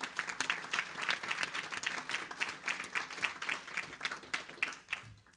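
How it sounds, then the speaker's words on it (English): A round of applause from an audience at a Supreme Court preview event, lively clapping of a moderate crowd with distinct hand hits rising and falling, then fading away near the end. "we all really need to give Lee the big round of applause"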